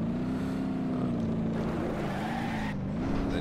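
Simulated car engine in BeamNG.drive as the car slides and spins out on an ice track. The revving tone wavers up and down continuously with a brief dip, loud and without talk.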